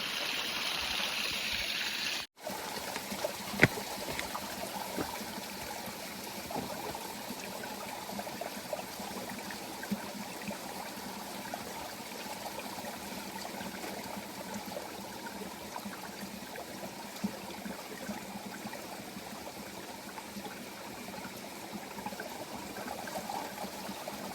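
Water flows steadily at a water source on the Pacific Crest Trail, a continuous close trickling stream that runs alone and unbroken after a brief sharp knock near the start.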